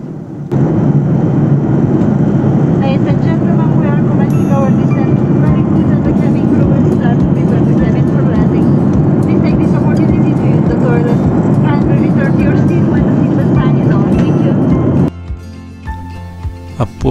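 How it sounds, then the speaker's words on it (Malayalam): Cabin noise on a Dubai to Kozhikode passenger flight during descent toward landing: a loud, steady engine and airflow roar fills the cabin, with voices faintly over it, before the roar drops near the end. "അപ്പോൾ വിമാനം ലാൻഡിങ്ങിന് വേണ്ടിയുള്ള തയ്യാറെടുപ്പിലാണ്."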